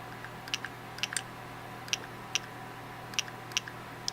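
Polarstar Jack paintball marker solenoid firing in semi-auto, about nine short faint clicks at irregular single-shot intervals, held near the mic against a steady low hum.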